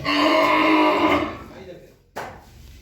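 A cow on a cattle farm gives one loud, drawn-out moo that slowly fades, followed by a short knock.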